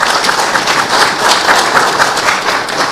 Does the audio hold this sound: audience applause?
yes